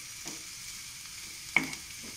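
Ivy gourd (kovakkai) frying in a pan, a faint soft sizzle with a few brief scraping stirs, one sharper clank near the middle.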